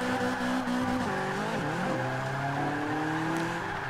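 A Ford Escort RS1800 spins out in the racing game Forza 5. A steady, loud engine drone runs throughout, with its pitch wavering and sliding as the car loses grip.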